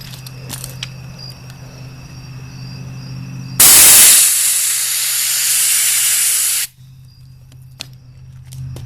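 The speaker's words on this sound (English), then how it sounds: "It's got a little rust on it, so I'm going to blast it and blow it off with air after that" A rusty oil cap from a Suzuki Samurai SJ413 is media blasted with an air compressor, a loud, harsh, steady hiss lasting about three seconds that starts and stops abruptly over a low background hum.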